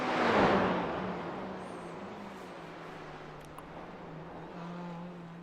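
A race car sweeping past at Suzuka in a racing game, loud at first and fading into a steady distant engine drone with other cars humming faintly.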